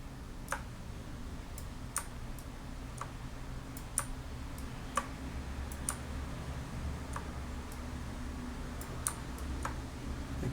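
Computer mouse on a Pro Tools editing session gives sparse, faint single clicks at irregular intervals, soft taps standing alone over a low room hum with no talking.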